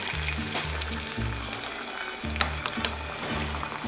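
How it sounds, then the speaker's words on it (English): Eggs fry in a pan over medium heat for huevos rancheros, a steady sizzle with light crackle running throughout, joined by repeated low rhythmic thumps. "So we're gonna be cooking these eggs over medium"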